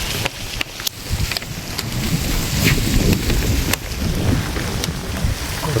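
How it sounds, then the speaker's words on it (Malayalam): Light rain and gusting wind at Korulde lake on a mountain trek: a steady, broad wash of rain noise with wind rising and falling, and a few brief louder gusts or drops. "കുറച്ച് മഴയും കുറച്ച് കാറ്റും"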